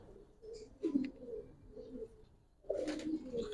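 Male Giribaz pigeons at a loft give soft, low cooing calls in two short bouts separated by a pause, faint and nearby in a quiet room.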